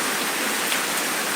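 Steady, dense rain pours down in a continuous hiss, heavy and close, with no other sounds.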